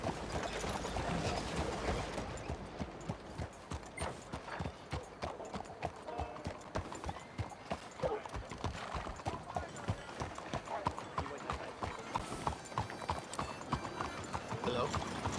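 Horse hooves gallop in a quick, steady clip-clop rhythm in Red Dead Redemption 2, close and continuous, with a faint whinny and game voices talking over them.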